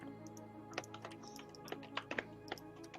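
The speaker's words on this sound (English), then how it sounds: "Why is your keyboard so noisy?" Clicky computer keyboard typing during a Minecraft session testing honey block machines, a steady run of close, fairly quiet key taps with a few sharper, louder strokes and no talking.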